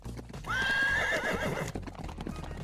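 A horse gives a loud, shrill neigh over steady clip-clopping hoofbeats, with a busy background continuing underneath throughout.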